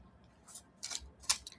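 Tarot cards being shuffled in short papery bursts, three or four quick riffles with gaps of quiet between them, close and fairly soft.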